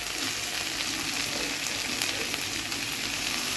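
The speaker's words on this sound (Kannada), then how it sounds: "ಇದ್ರ ಜೊತೆಗೆ ನಾನು ಟೊಮಾಟೊ ಹಾಕ್ತಾಯಿದ್ದೀನಿ" Tomato goes into a frying pan while samiyo upma is being cooked, and a steady, dense sizzle holds evenly for a few seconds, close and with no talking.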